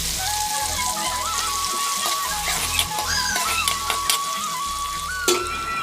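Chech bhaji leaves fry in hot oil in a Chhattisgarhi home kitchen, giving a steady bubbling sizzle that runs throughout, with a few clicks and clatters from the pan and a tonal hum underneath.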